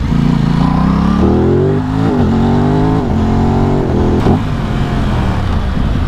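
A motorcycle fitted with a quickshifter accelerates hard through the gears, its loud, close engine note climbing steadily with brief dips at each shift.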